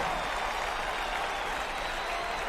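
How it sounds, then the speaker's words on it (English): Steady crowd applause from a computer baseball game, the 1950 Red Sox against the 1961 Yankees, a continuous even wash of clapping at moderate level with no talk over it. "Fans give the little professor applause"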